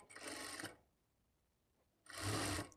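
A sewing machine stitches the lining of a blouse in two short bursts of steady whirring, each under a second long, with a quiet pause between them.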